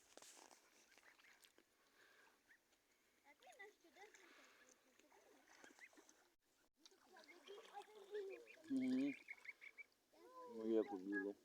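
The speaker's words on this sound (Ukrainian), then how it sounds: "Це гусак." Goose honking outdoors near a pond, with loud close honks in the last few seconds following a quieter stretch of people talking and calling to the birds.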